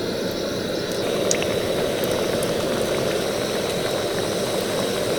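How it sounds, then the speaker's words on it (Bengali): Fish-shaped snacks fry one by one in hot oil in a kadai over low to medium heat, giving a steady, dense sizzle that holds evenly and close throughout with no talking. "এবার আমি এক এক করে মাছগুলো ভেজে নেব"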